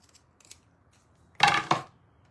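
Scissors cut through fabric or trim for a DIY rhinestone cuff bracelet in two quick, close snips about a quarter second apart, with quiet handling noises before them.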